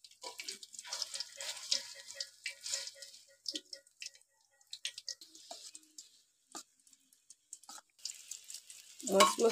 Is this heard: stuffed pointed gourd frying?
yes